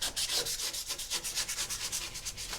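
An old drywall joint knife, its edge honed sharp, slices through foam insulation flush with the wood framing of a micro RV camper, giving rapid, rhythmic close scraping strokes with no talk.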